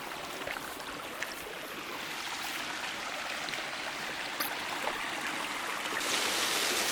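Water from a waterfall and stream runs onto a beach on Islay, a steady close rush of splashing flow with a faint brighter hiss toward the end, no voices.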